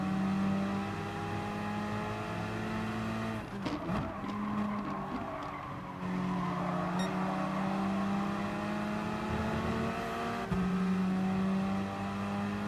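Gr.4 race cars lap Brands Hatch in Gran Turismo Sport, engines whining at high revs with gear shifts, a brief scuffle of tyre noise midway, and steady drone throughout at modest level.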